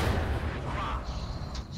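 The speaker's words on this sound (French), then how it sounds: "La Katyusha qui tire." Katyusha rocket launcher firing in a World War II strategy game, a loud rumbling salvo with rushing noise that fades over under two seconds, with faint game sounds behind.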